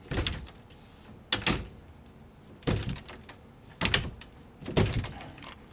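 A closet door with a magnetic catch in a basement is opened and shut four times in a row, each a close, sharp knock and clatter with brief quiet gaps between, no voices.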